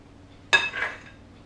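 A single sharp clink of a spoon against a muffin case or tin while berry muffin mixture is divided into cases, followed by a brief soft scrape, then quiet.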